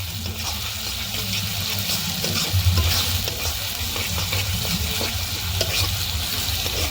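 Onions fry in a pan with a steady, dense sizzle and occasional stirring scrapes, close up and without voices.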